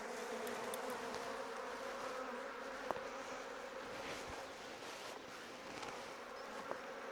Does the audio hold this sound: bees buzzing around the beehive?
yes